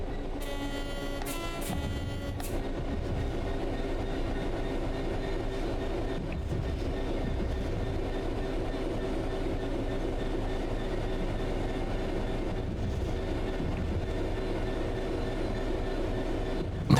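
A heavy old diesel train in Train Sim World 6 rumbles steadily with a low engine drone and rolling wheel noise, sustained and close, with a brief higher tonal whine near the start.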